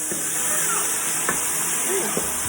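Ground beef and its juices hit a hot pan of browned mushrooms while cooking beef stroganoff, giving a steady, close, even sizzling hiss that lasts throughout with a few faint stirring scrapes.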